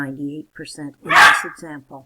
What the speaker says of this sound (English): That noise you heard just a moment ago was my little puppy barking.